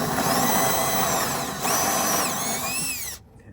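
A hole saw bores into the deck of an old Hallberg Rassy 352 sailboat during a refit, a loud steady whining drill with rising and falling motor pitch, briefly easing midway before stopping abruptly near the end.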